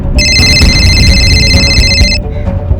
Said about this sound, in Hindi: सुमित का फोन है